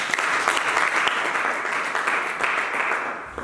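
Church congregation applauding, a dense, sustained wash of many hands clapping at close range that holds steady for several seconds before easing slightly.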